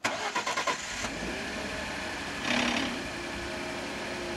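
A 2011 Ford F-150 EcoBoost starts with the hood closed: a quick cranking burst with rhythmic pulses catches into a steady idle, a brief rise in revs midway, with the engine block rattle of a worn timing chain underneath.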